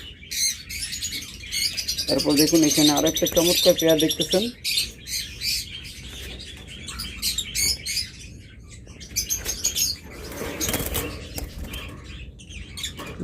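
Caged green opaline pet birds, including green-wing opaline, chirping and squawking with bursts of wing flapping, fairly close, while someone talks over parts of it.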